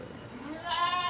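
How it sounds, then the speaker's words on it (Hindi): A large, jumbo-sized goat gives a single short, nasal bleat that rises clearly near the end, close to the listener and alone with no talking. "ये भी फुल बड़ी बकरी जंबो साइज़ में माशाल्लाह बकरी है"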